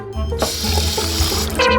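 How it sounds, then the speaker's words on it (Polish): Water runs from a kitchen tap in a steady, close rush for a couple of seconds, with a brief shift in tone near the end as the stream changes. "Ale jak dodam trochę wody..."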